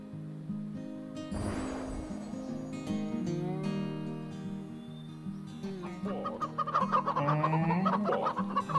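Chickens cluck and murmur steadily close by, their calls building louder and busier toward the end, with no talk over them.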